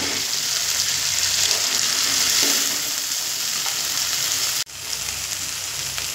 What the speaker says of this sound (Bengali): আর যখন ডালটা কষাবো অবশ্যই কিন্তু হাই ফ্লেমে কষাতে হবে।